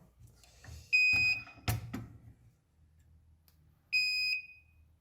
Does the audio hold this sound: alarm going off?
yes